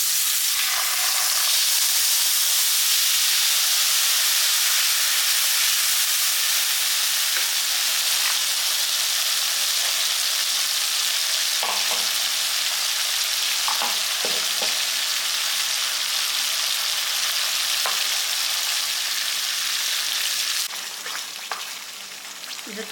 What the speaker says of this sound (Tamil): இது கொதிக்கிறது நல்லா எண்ணெய் பிரியணும், அந்தளவுக்கு கொதிக்கணும்.